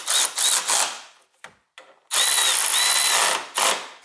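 Power tool tightening a clamp on a CL65 AMG engine, loud whirring bursts with high whine that start and stop in short spurts, then a longer run, close by.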